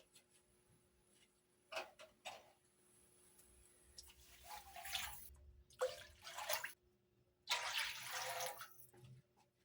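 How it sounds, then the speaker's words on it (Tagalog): Water is poured into a cooking pot in several short bursts, splashing and trickling quietly with pauses in between. "Magsasabaw tayo ng ating tubig"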